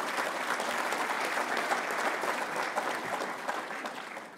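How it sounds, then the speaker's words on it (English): A conference audience gives a warm round of applause to heads of state on an investment forum panel, a steady, even wash of many hands clapping at moderate distance without pause. "it will be quite appropriate to give our excellencies a warm round of applause"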